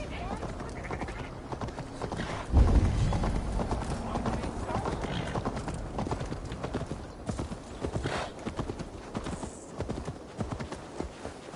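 Rapid hoofbeats of a galloping horse in the video game Assassin's Creed Valhalla clatter throughout, with a whinny and voices shouting over the rhythmic clip-clop.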